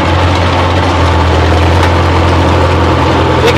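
A DT-54 tractor engine runs loud and steady throughout, a deep, even, low-pitched drone with no pauses and no voices.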